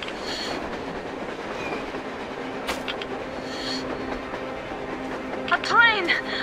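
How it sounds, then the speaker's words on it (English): A train passes in the Metro Exodus video game, a steady rolling rumble with clattering wheels and a sharp metallic squeal near the end, heard alongside other game sounds. "A damn train on the surface!"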